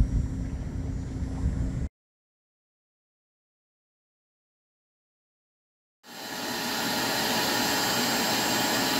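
A loud shop vacuum roars outdoors, cuts to silence for a few seconds, then spins back up and keeps running steadily.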